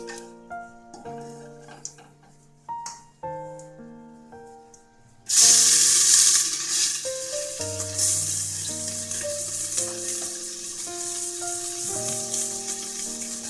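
Crushed ginger, garlic and green chilli hit hot oil for a vegetable pulao, bursting into a loud hiss partway through and settling into steady frying, while a plucked melodic tune plays before and under it.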